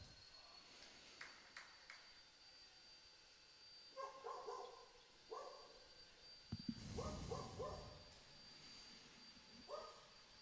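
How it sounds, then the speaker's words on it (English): Several dogs barking in short bursts at a disability sports championship, the barks fairly faint and scattered across the clip over a steady background hum, with one louder clattering burst midway. "Even the dogs are getting excited."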